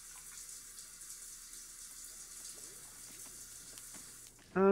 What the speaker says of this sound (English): Go take a shower.